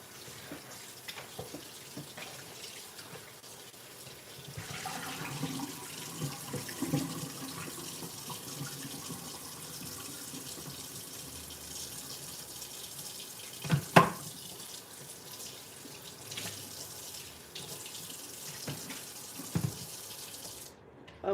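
Liquid from cooking meat poured out into a kitchen sink, a soft running splash that builds after a quiet start and continues steadily with a few clanks of a pot or dish near the end.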